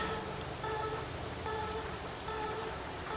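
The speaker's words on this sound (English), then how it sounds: "It is raining." Rain in the Euro Truck Simulator 2 driving game: a steady, dense hiss of falling rain with a faint tonal hum from the truck underneath, continuous and even throughout.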